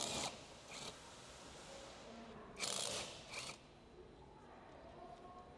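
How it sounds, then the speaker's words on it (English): A 15mm short socket on a ratchet loosens the wiper arm nut on a 2013-2015 Ford Escape, giving a few quiet, quick clicking ratchet bursts separated by pauses in a calm setting. "remove the wiper arm nut"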